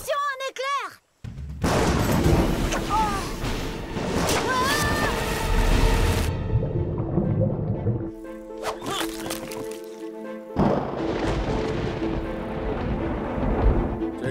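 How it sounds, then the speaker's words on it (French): Thunder from a lightning strike in a cartoon jungle scene, a loud, sustained rumbling crash that fills the scene for several seconds amid dramatic music and sound effects, with a voice briefly heard at the start. "Attention, un éclair."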